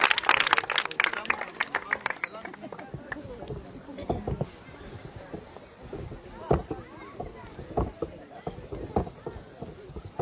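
A congregation at a large baptism service applauds, with a burst of dense clapping at the start that thins into scattered claps and room noise while someone speaks.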